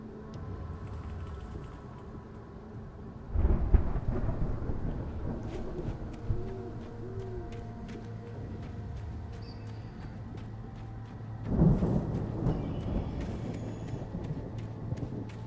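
Thunderstorm in the video game Alan Wake: a low continuous rumble of wind and rain, broken by two heavy thunder rolls, one early and one late, with faint tonal game ambience between.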